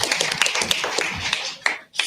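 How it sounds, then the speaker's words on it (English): A theatre audience claps in short bursts of close, sharp claps that thin out and pause briefly before a final flurry. "you guys can clap"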